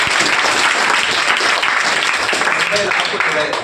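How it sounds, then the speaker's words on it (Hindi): Loud, sustained applause from an audience at a welcome event for top-scoring students, a dense steady wash of clapping for several seconds. "एक बार जोरदार तालियां आपको।"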